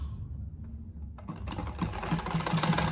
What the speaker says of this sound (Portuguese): Eu passo uma costura bem em cima da costura dele.